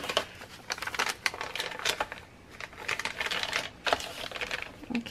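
Scissors snipping through folded paper at close range, a steady run of crisp crackly cuts with no talking.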